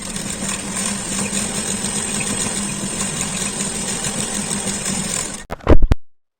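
An electric sewing machine runs steadily for about five seconds, a continuous mechanical whir with motor hum, stitching a straight seam along a doubled two-inch fabric strip for a baby girl's frock, then stops with a few brief clunks.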